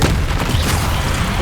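A Confringo spell explodes in Hogwarts Legacy, a short, dense, roaring blast of noise that stays loud for its whole length, with no talk.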